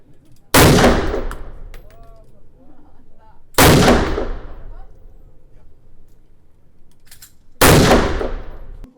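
Three loud, sharp gunshots ring out several seconds apart at a shooting range, each with a booming echo, and quieter background noise fills the gaps.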